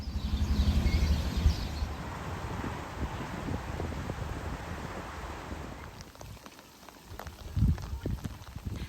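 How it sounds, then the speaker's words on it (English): Heavy rain pours down at canal locks beside moored narrowboats, a dense steady hiss with gusts of wind buffeting the microphone throughout. "it started to rain, and wow, did it rain"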